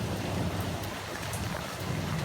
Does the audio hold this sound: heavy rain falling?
yes